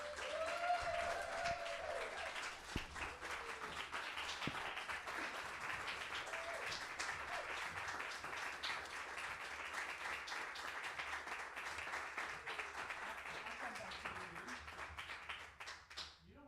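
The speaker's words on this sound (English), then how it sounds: "So please stand and let's give you a round of applause." A church congregation claps steadily in a warm round of applause for a retiring member named Charlotte, dense sustained clapping filling the room for about fifteen seconds before tapering off.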